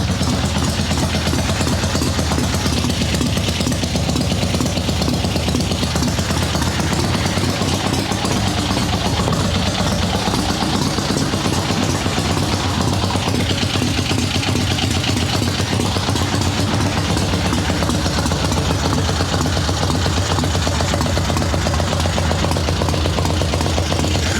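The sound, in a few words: flooded chopper motorcycle engine running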